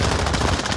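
Dense, continuous close gunfire during a Call of Duty Warzone match, loud and sustained through the short moment without a break.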